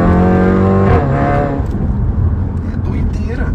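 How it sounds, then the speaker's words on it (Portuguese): A car engine revs hard and accelerates loudly up close, a high straining whine that falls away after about a second into rumbling road noise. "Só essa acelerada aqui, além de ser 100 reais de gasolina, é uma multa"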